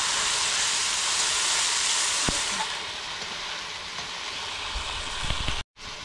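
Spice paste for katla fish curry frying in oil in a pan, a steady close sizzle with brief stirring scrapes, running continuously before ending abruptly.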